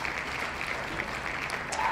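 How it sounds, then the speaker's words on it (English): Steady, moderate applause from an audience at a women in technology awards event, a brief even round of clapping for the sponsors with no voices over it. "Please give a virtual round of applause for these sponsors."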